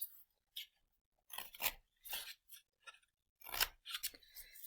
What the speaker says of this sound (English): And I can cut this out